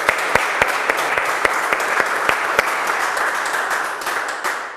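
Audience applause at a collective art creation event in Paderno Dugnano, a dense steady wash of clapping with a few sharper near claps, fading slightly toward the end.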